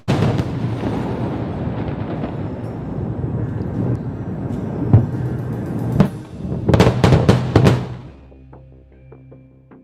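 Explosion near Beaufort Castle in Lebanon, a deep sustained rumble with sharp bursts and cracks building toward the end, then fading into a low tonal hum.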